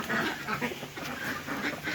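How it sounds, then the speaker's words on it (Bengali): Ducks of various breeds quacking in a lively, overlapping chorus in a park, fairly close, with steady outdoor background noise and no talking. "এ দেখতে পাচ্ছেন সুন্দর সুন্দর হাঁস"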